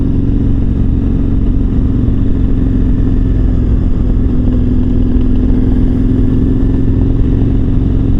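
A KTM 1290 Super Adventure R motorcycle being ridden, its engine giving a loud, steady low drone with constant wind rush close to the rider, no talk.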